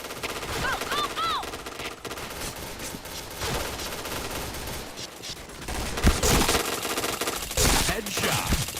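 Rapid automatic gunfire from the shooter game Point Blank rattles in dense bursts, with louder volleys toward the end and faint voices underneath.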